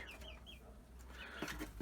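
Soft clucking from black-skinned Wuhei Lü (Ukheiliui) chickens, a few short calls close by over a low background hum, quiet and intermittent, in the evening.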